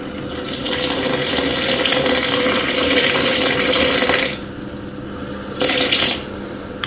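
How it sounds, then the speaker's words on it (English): Room-temperature water, 325 grams, pours steadily into wholemeal sourdough flour in a bowl, a continuous close splashing stream that stops partway, then a short second pour. "And now 325 grams of water, room temperature"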